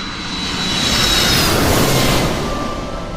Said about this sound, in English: it's an aeroplane